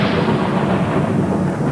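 A dense, loud, sustained rumble of thunder fills the clip without pause, heavy and low, with no voices.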